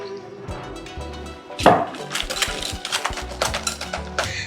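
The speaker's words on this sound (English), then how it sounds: "let's give this a whisk and see what we've got going on here" Whisk stirring a mustard and paste marinade in a bowl for tandoori chicken, rapid scraping and clicking strokes that start softly and grow louder and busier, close up.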